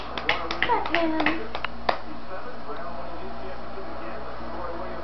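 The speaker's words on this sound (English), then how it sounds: "Oh, are we all done clapping?" A small child gives a quick burst of light, uneven hand claps close by, then stops while an adult keeps talking in a quiet room.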